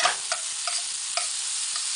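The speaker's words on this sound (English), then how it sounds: "Now I'm going to add the black garlic to the pan. Just stir it up a little bit." Black garlic sizzles in a frying pan with a steady hiss, punctuated by several distinct spatula clinks and scrapes as it is stirred, close up and with no talk.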